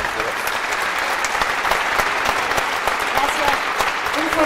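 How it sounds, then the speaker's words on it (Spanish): Steady crowd applause fills a frontenis court in Torreón after a singles semifinal match, dense and continuous throughout, with some voices mixed into the clapping. "Un fuerte aplauso a estos dos jugadores."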